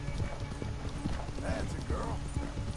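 A horse's hooves clip-clop in Red Dead Redemption 2, a quick run of distinct hoofbeats at moderate volume with faint mechanical clicks in the background.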